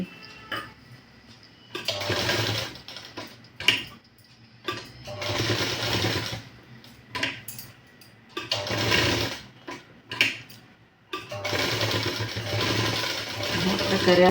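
A sewing machine stitches a blouse neck with a canvas strip in rapid whirring bursts, about six runs separated by short pauses, each starting and stopping abruptly at close range.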